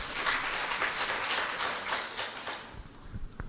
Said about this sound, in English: So please give applause to Professor Noklah Mitong.